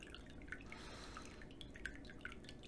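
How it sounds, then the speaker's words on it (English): Fukamushi green tea poured out, a faint thin trickle with scattered soft drips, quiet and close over a low background hiss. "We have the proof here just in the pouring of the tea"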